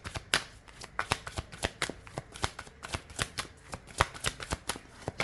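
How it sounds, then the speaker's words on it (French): Inner Star oracle cards being shuffled by hand produce a steady run of quick, crisp slapping and riffling bursts, close up and fairly quiet, with no other sounds around them. "on va terminer avec une petite carte de l'oracle Inner Star"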